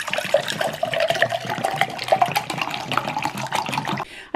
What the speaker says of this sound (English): I'm going to pour myself my first cup of water for the day